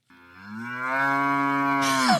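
A single long cow moo, deep and steady, close and loud, rising in strength and ending with a short throaty break, with no voices.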